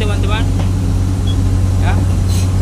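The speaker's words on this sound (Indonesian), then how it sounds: "Kita turun dari trailer. Nah, ini eskavatornya posisi mundur teman-teman" A Komatsu PC200-8 excavator reverses off a trailer, its diesel engine droning steadily and close throughout while someone talks over it.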